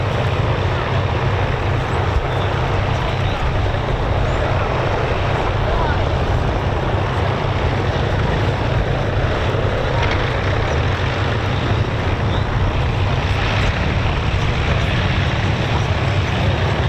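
Heavy propeller engine drone from the Lancaster Just Jane and a Mosquito during taxi runs at the East Kirkby airshow, a loud continuous low roar with wind buffeting over the microphone.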